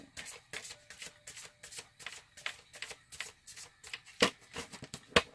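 Tarot cards shuffled close up in quick repeated bursts, a papery riffling flutter with soft thuds between, steady rhythm and no talking.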